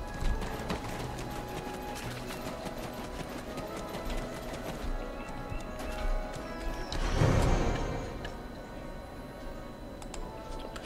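Horse hooves clip-clopping in the online game Black Desert Online, a quick, even, clicking gait that runs steadily under faint game music, with a short louder burst partway through.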